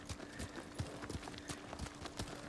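Steady clip-clop of horse hooves on hard ground in the video game Ghost of Tsushima, a quick regular rhythm at moderate volume with a faint background hum.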